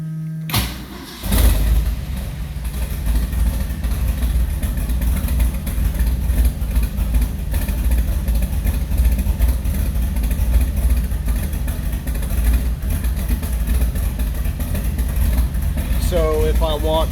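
A parked car's engine cranks briefly, catches and settles into a loud, steady rumbling idle that runs on for over fifteen seconds, with a person talking over it.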